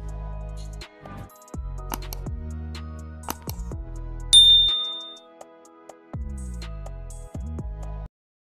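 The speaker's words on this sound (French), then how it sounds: "activer la cloche de notification" A bright notification bell chimes once, a clear ringing ding that fades out among short synthetic musical tones and whooshes in a news intro.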